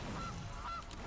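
A goose honks from a goose card in a digital card game, two short nasal honks in quick succession over a steady game background, loud and close with no talk.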